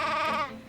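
A sheep bleats in an anime episode, a single drawn-out, wavering cry that sounds loud and close and tails off near the end, with no talk over it.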